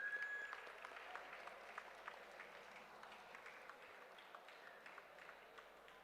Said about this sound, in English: One more time, can we put our hands together for Mr.